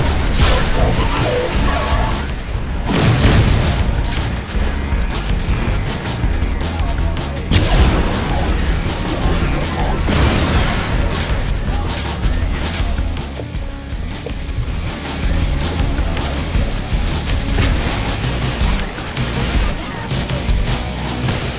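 Guided rocket explosions in the shooter Hard Reset, in a junkyard level, with repeated booming blasts, crashes and whooshes layered densely and loudly throughout.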